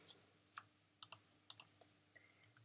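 Quiet, close typing on a computer keyboard: a few sparse, irregular key clicks, some in quick pairs, against a near-silent background.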